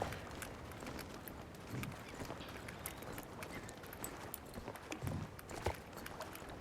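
Pony hooves galloping in a video game, a quiet, steady run of soft rapid thuds with a few louder beats, set against faint background sound.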